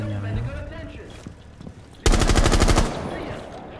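Rapid automatic gunfire in the Rainbow Six video game, a loud sustained burst of about a second after quieter game sounds and brief talk.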